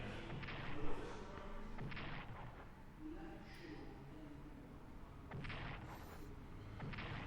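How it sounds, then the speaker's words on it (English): Bombers strike Soviet tanks in the Strategic Command 1942 strategy game, with a run of muffled booms and thuds, several bursts clustered early and more near the end over a steady low rumble. "I'm going to see if our bombers can damage these tanks."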